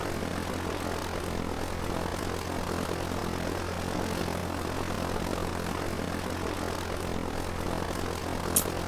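Steady droning engine hum of a UAV drone in Arma 3, constant and moderately faint throughout with a low tonal buzz and no talking.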